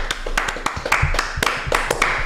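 A round of hand clapping on a live Saturday football chat show, a fairly close cluster of sharp irregular claps from a few people running for a couple of seconds, with faint talk underneath.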